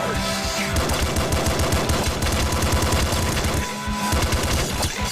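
Rapid, continuous gunfire bursts from the top-down shooter video game Nuclear Throne, dense overlapping shots layered over game music with a brief lull before the firing resumes.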